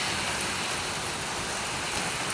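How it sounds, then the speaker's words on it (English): Hard rain pouring onto a house and its gutters, a dense, steady hiss of heavy downpour that fills the whole clip, loud and close with no pauses or voices. "that's pretty hard rain"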